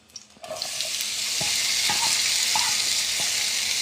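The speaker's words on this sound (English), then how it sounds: "I want to hear a little sizzle when I drop it" Steady, broad sizzle of a chicken cutlet frying in a hot pan, fairly loud and continuous, with a few faint clicks and taps of utensils.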